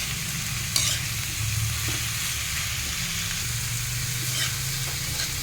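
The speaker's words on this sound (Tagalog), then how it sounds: "Sa mga nagtataka kung bakit ko hinahalo." Ampalaya (bitter gourd) being stirred in a hot pan, a steady broadband sizzle with scraping strokes of the spatula at irregular moments, close and continuous with no talking.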